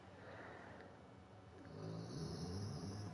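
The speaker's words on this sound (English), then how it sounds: "I don't know if anyone can hear my dog snoring in the background." A pet dog snores steadily in the background, a soft rasping breath that swells louder midway through, heard alone without talk.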